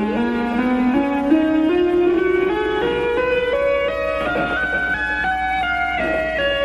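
Two-handed tapping on electric guitar, hammer-ons and pull-offs forming a steadily rising run of bright, sustained notes that climbs in stepwise phrases, played alone at an even, moderately loud level.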